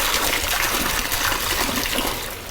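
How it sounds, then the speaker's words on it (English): Box wine pours into a jungle juice mix of peach vodka and triple sec, a loud, continuous gushing stream of liquid that holds steady before easing slightly at the end. "When I'm pouring booze, I feel free, okay?"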